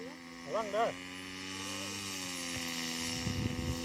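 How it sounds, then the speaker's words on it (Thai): A radio-controlled model airplane powered by a lawnmower engine comes in to land, its buzzing engine drone steady and fairly close, with a brief higher whine early on and a voice speaking over it. "มาชมจังหวะ ที่ เครื่องบินลำนี้มันแลนดิ้งนะครับ"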